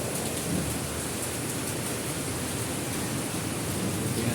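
Steady heavy rain pours down without a break, a dense close roar of falling water, no voices.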